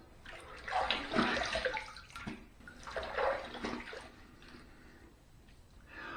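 Running water splashes while someone rinses after a shave. Two moderate swells of water sound rise and fade close by, with no talking.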